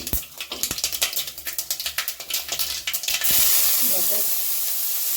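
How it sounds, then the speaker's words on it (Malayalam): Mustard seeds and dried red chili crackle and pop in hot coconut oil in a pan, a quick run of close sharp sputters that settles into a steady loud hiss. "കുറച്ച് വെളിച്ചെണ്ണ ഒഴിച്ചു കൊടുക്കാം കുറച്ച് കടുക് കൊടുക്കാം ഉണക്കമുളക് ഇട്ട് കൊടുത്തിട്ടുണ്ട്"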